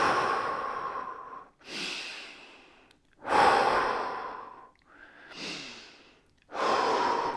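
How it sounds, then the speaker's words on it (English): A person breathes deeply and slowly during a fascia and body-release exercise. Long, close, airy inhales and exhales alternate with brief pauses between them, and no one speaks. "Just breathe in."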